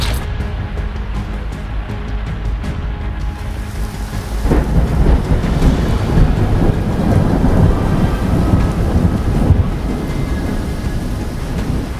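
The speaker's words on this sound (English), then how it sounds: "it's the river. She's still flowing fierce." Loud, steady roar of a fiercely flowing river close by in the Snowdonia wilderness, a dense continuous wash of noise that swells slightly partway through, with no voices.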